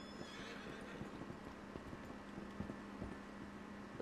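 A horse in the video game Red Dead Redemption 2 whinnies faintly while hooves clip-clop underneath, with a low steady hum in the background.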